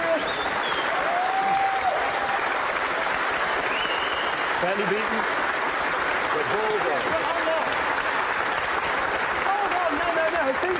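Studio audience applauding on a car show, sustained loud clapping and cheering throughout with a brief spoken line from a man over it.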